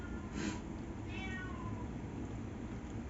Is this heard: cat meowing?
yes